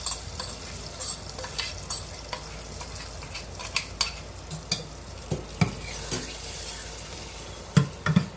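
A spoon stirs a fried tempering into gangavali dal in a pot on the stove, scraping and clinking in irregular strokes over a soft, steady sizzle, close and alone without speech.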